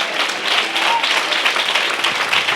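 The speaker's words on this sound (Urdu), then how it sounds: "کچھ لوگوں نے ہالےلویا کے ساتھ تالی بجائی ہے" Congregation clapping during a church sermon, a dense, loud, continuous patter of many hands spread through the room, with voices faintly mixed in.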